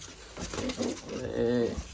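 Pigeons coo in a low, rounded warble that rises toward the end, close by and fairly loud, with a faint hint of human voice mixed in.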